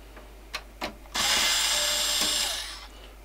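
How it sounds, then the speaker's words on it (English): A power drill backs screws out of the side of a piece: a few light clicks, then a loud, steady whirring burst lasting over a second that tapers off, with no talk. "Let's just get these screws out the side"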